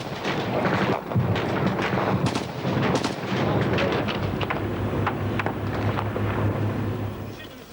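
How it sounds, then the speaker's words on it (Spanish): Gunfire in the streets of Moscow during a curfew, repeated sharp cracks and booms scattered irregularly over rumbling wind and street noise, with a voice speaking in places. "aún a estas horas continúan escuchándose disparos en Moscú"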